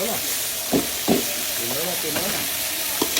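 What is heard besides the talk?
sautéing garlic, onion and ginger for tinola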